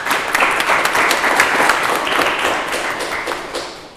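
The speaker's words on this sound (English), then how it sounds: "How about a round of applause?" Audience applause at a public debate on the immigration executive order: loud, dense clapping from a crowd, sustained evenly for the full four seconds before tapering slightly at the end.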